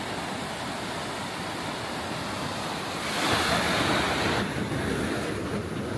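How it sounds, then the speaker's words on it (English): A fierce, fast-flowing river near Jokoji Station rushes in a steady broadband roar, close and continuous, swelling a little louder for a few seconds midway. "this is what the river is like. It's quite fierce."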